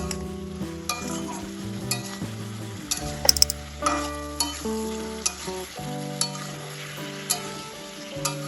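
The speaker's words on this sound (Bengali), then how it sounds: "মশলার সাথে সবজিটা ভালোভাবে একটু কষিয়ে দেবো" Vegetables tossed with spice paste and a little water fry in a pan for shukto, a bitter gourd and eggplant dish, with a soft sizzle under repeated rhythmic spatula scrapes and clinks close by, and no voices.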